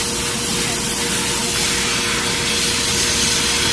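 A Harder & Steenbeck Infinity CR+ airbrush sprays in a steady, loud, broadband hiss of compressed air that holds constant without a break, with no voices over it.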